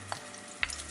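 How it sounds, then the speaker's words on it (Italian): A frittata mixture of mussels and egg hits hot oil in a pan and starts to fry, with a steady soft sizzle and two brief crackling spurts, close and fairly quiet. "Appena l'olio diventa bello caldo, ci andiamo a versare il nostro composto."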